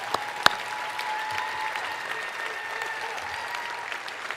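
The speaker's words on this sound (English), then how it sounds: "One more round of applause for all the Michigan Celebrates awardees this evening." Steady applause from a gala audience honoring small-business awardees at Michigan Celebrates Small Business, a dense, even patter of many hands with one sharp louder clap near the start.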